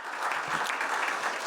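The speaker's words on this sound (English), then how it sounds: "I'd just like to ask everyone to join with me in a round of applause, just for ecogas." A conference audience gives a steady, dense round of applause for an anaerobic digestion company, ecogas, with the clapping filling the whole short moment.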